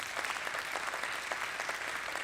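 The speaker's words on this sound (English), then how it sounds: "We should give yourselves a round of applause for having a great day for the region" A seated audience at a regional results announcement applauds steadily, a dense patter of many hands at moderate distance, sustained and even, with no voices over it.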